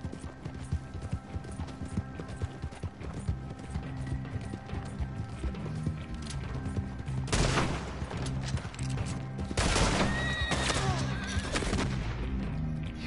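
In Red Dead Online, a horse whinnies amid steady hoofbeat clip-clop, with bursts of gunfire erupting partway through, all at moderate level over a busy game soundscape.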